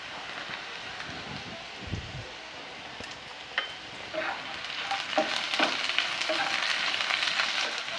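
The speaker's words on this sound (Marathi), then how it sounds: "हे छान परतून घेऊया" Black peppercorns, cloves, star anise, black cardamom, garlic and ginger sizzle and fry in hot oil in a pan, a steady crackling hiss that grows busier toward the end with scattered sharper pops and stirring scrapes.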